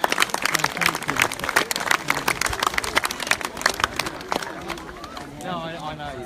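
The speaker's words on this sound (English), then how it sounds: "big round of applause for yourselves" Crowd at a Relay for Life charity walk clapping and cheering together, a dense, lively burst of applause filling most of the moment before fading into softer chatter near the end.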